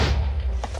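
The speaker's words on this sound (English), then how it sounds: "Then we have explosion, which I'm gonna aim that over there for obvious reasons." A wizard's explosion spell in Minecraft goes off as a single short, dull boom with a deep thud at its core, fading quickly.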